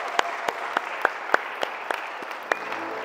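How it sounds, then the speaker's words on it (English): Sparse applause from a small group of guests follows a church wedding ceremony: a dozen or so distinct, sharp claps spaced through the room over a quiet background. "We give them an applause."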